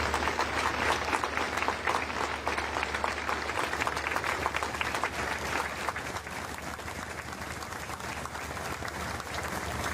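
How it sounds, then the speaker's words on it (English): A roadside crowd at the start of a women's stage cycling race gives sustained applause in remembrance, a broad, even ripple of clapping that carries on for the whole stretch and eases off a little toward the end. "I ask you all now to join in a round of applause as we remember"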